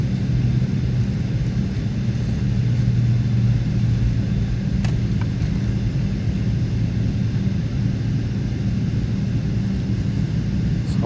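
Emirates Boeing 777-300 taxiing onto the runway at Dubai, heard from inside the cabin as a steady low engine rumble and droning hum with faint rattles, no voices.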